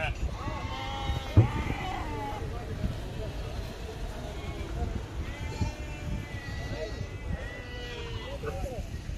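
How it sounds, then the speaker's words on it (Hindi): Goats bleating repeatedly at an animal market in the UAE, several wavering cries rising over a busy crowd background, with someone talking nearby. "रजब भाई ये कौन से बकरे बकरियां भाई?"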